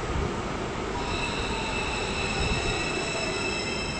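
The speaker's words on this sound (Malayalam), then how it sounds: "വീണ്ടും നമ്മളൊരു ട്രാം ഒന്ന് നമ്മുടെ വ്യൂ ബ്ലോക്ക് ചെയ്തു" A Melbourne city tram passes close by at night, its steady rumble joined by high wheel squeal that holds through the whole stretch, with no voices.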